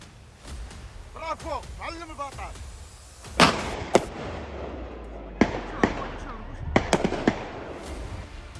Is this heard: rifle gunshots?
yes